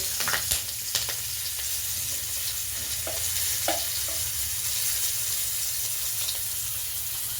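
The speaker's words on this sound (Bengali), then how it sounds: "এখন তেলের মধ্যে দিয়ে দেওয়া হলো কাঁচা লঙ্কা" Green chillies crackle and sizzle in hot oil in a pan already used for frying fish, a steady close frying hiss with a few sharp pops near the start and occasional spits throughout.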